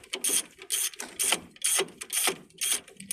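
Ratchet loosening a brake caliper bolt on a 2009 Nissan Versa 1.6L, bursts of close, crisp pawl clicking in about six rhythmic back-and-forth strokes with brief pauses between.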